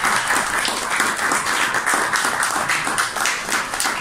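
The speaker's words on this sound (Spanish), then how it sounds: "Les pido un fuerte aplauso para agradecer a sus amigos." Loud, steady applause from an audience at a celebration marking a radio station's 80th anniversary, dense clapping filling the whole stretch without a break.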